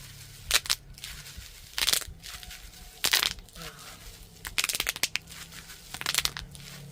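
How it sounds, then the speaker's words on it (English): Bubble wrap is squeezed and popped by hand, giving irregular clusters of crisp, crackling pops between quiet pauses, close by with no voices. "Alright, enough of the bubble wrap."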